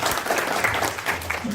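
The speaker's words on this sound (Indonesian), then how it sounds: "Berikan tepuk tangan untuk Fintech" An audience at a fintech business presentation claps steadily in a continuous, close, dense patter with no pauses, lasting the short stretch without clear speech on top.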